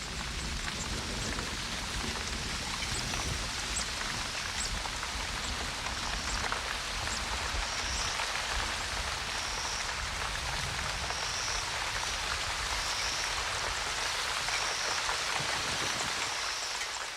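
Heavy rainstorm pouring over the Serengeti plains in Africa, a dense, steady roar of rain hitting the ground that continues without a break, loud and close throughout.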